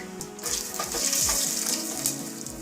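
Sliced garlic sautes in hot oil with cumin seeds and dry red chilies for a tomato lentil curry, giving a bright, loud, close sizzle with light stirring, no voices.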